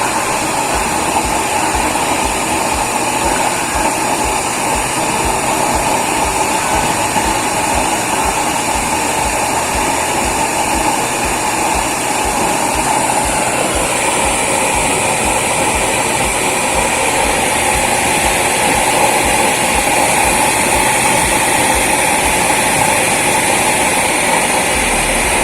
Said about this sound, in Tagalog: Blue flame yung nanggagaling sa pinakailalim.